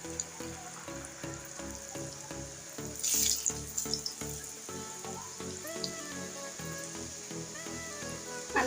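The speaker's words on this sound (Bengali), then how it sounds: "বাকিগুলো আমি ওই তেলের পরেই ভেজে নিচ্ছি।" Nimki pastries deep-fry in oil with a steady, bubbling hiss, crackling continuously at moderate volume with a brief louder surge of spattering.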